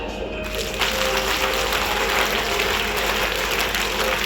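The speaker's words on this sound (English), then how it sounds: "And now clap." Schoolchildren at a morning assembly in a Class 1 and 2 school clap their hands together, a steady dense patter of many small hands filling the space, continuous and fairly loud throughout.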